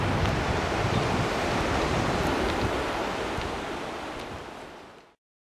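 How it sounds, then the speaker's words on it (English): Fast-moving water of the wide Congo River pouring over rapids among large black rocks, a dense, steady roar heard up close that holds constant before fading out near the end. "Very large, fast-moving river with large black rocks and people fishing and rapids."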